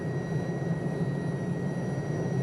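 An Alouette III helicopter in a flight simulator game drones with a steady, dense turbine and rotor rumble plus a thin high whine, constant and unbroken.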